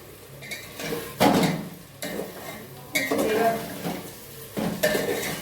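Whole spices tempering in a pot for pulao clatter as a utensil stirs and scrapes the metal in a few distinct bursts, with a faint sizzle and brief talk between strokes.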